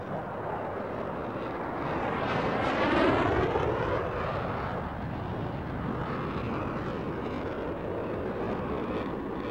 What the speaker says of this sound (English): don't you dislike all the noise of the planes?